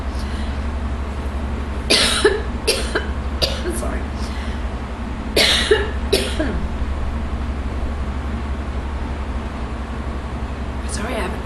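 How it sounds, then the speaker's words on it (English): Several sharp coughs in two clusters ring out from a person during a conversational talk, close and loud over steady room hum, followed by a brief spoken apology. "Sorry, I haven't been coughing all day."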